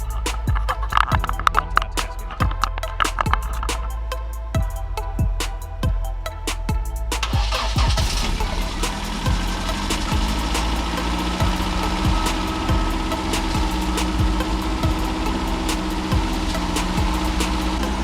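A 1989 Lotus Esprit engine cranks with a rapid, rhythmic series of starter pulses, then catches and settles into a steady, rumbling idle that carries on for the rest of the clip.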